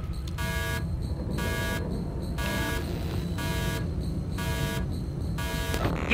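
A space-station alert alarm in the video game Observation repeats in evenly spaced electronic buzzing tones, each about half a second long, over a low steady hum.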